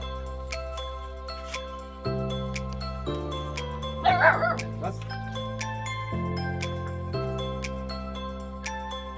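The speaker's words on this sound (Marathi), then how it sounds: "कुत्र तर खूपच डेंजर आहे भाई ते वाला." Music with sustained tones plays throughout, and a brief burst of dog barks from a farm dog cuts in near the middle.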